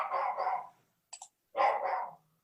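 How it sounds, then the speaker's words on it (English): A dog barks twice in the background of a home tabletop game session, two gruff woofs separated by a pause with a faint click between them, moderately distant and not loud. "Joe's dog is adding to the conversation."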